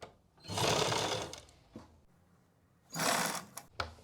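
A sewing machine stitches a suit neckline in two close bursts of rapid needle clatter, separated by a pause filled with faint handling clicks.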